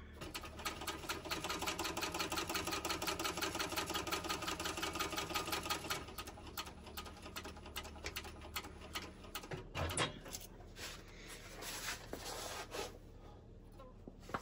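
A sewing machine back-stitches a seam on a bucket bag, its rapid needle chatter running steadily for several seconds, then slowing into looser, irregular bursts with small handling noises.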